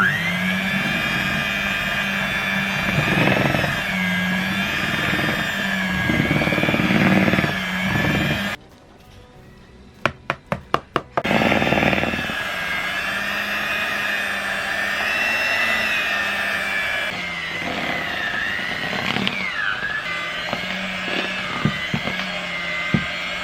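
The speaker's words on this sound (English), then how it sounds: "And we're just going to give that a good mix as well." An electric mixer whirs loudly and steadily as it blends flour, baking powder and salt for Sakura cookie dough, stopping briefly midway for a few clicks before running again.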